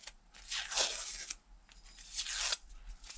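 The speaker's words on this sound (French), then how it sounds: "Maintenant, je vais enlever mon scotch." Adhesive tape is pulled off a drilled Dominator MP3 500 exhaust, two long ripping tears close by with a short pause between them.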